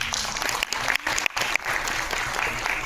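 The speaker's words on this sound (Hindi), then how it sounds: "आप सभी का स्वागत है जोरदार तालियों से" Loud, dense applause from a company gathering welcoming first-time attendees, a continuous clatter of many hands with a few brief dips, close and alone.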